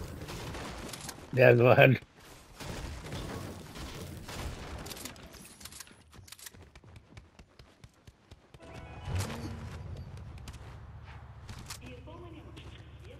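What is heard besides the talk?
shotgun gunfire in a video game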